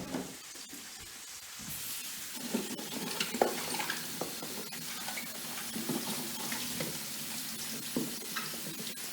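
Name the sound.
tap water running while washing fennel for salad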